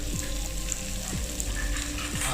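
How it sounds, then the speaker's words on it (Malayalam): Sliced onions sauté with salt in a pan for a mutton curry, giving a steady, close sizzle with a few soft scrapes of stirring and no talk. "ഇത് നല്ലപോലെ ഒന്ന് വഴറ്റി കൊടുക്കുക"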